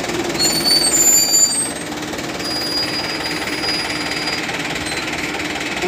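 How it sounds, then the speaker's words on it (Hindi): A Mahindra 595 DI Turbo tractor runs with a wheat reaper attached, giving a loud continuous mechanical rattle and engine drone, steady throughout with a slightly heavier burst at the start. "किसान भाई ने ट्रैक्टर स्टार्ट हो चुका है"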